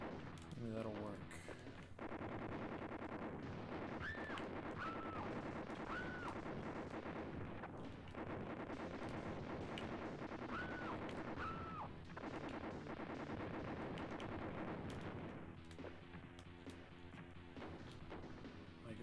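Gunshots in the SNES game Robocop vs Terminator, repeated blasts and impacts layered over continuous loud game music and effects, with someone talking over the game.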